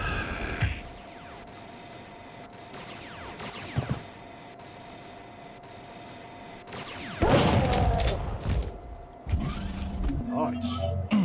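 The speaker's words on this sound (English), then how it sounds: "might as well waste it on an explosion" An explosion in a Mario 64 mod game sounds as a burst of loud, crackling blasts with rumbling debris, following quieter sharp impacts earlier over a steady hum.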